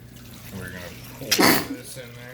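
A single loud, close sneeze bursts out in a home kitchen while a beef and vegetable stew is being prepared, with people talking before and after it.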